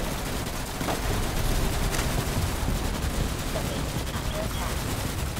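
Dense, continuous gunfire from the shooter game Starship Troopers: Extermination, a steady roar of rapid shots and bursts with no pauses, layered with voices talking over it.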